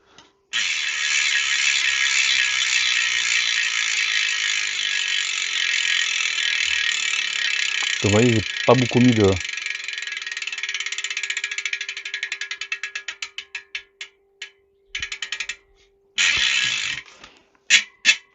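A Farsports Evo S5 bicycle freewheel hub clicks in a fast, steady ratchet buzz that slows into separate ticks as the wheel winds down, with a brief voice speaking.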